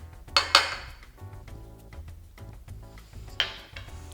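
Pide dough being mixed in a bowl, with a few sharp clinks and scrapes of a utensil against the bowl over a low hum, quiet between strikes.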